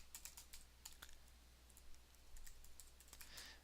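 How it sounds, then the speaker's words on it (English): Fingers typing on a computer keyboard while entering code: a quick run of light, crisp key clicks in uneven bursts, faint and close, with no speech. "So we're just going to type in"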